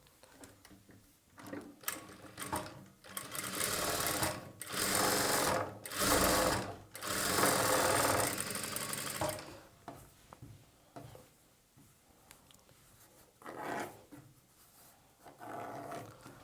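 A sewing machine runs loud, close-up bursts of rapid stitching through blouse fabric, separated by quieter pauses with faint handling sounds and low talk.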